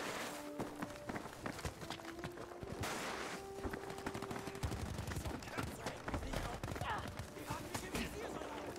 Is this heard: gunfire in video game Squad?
yes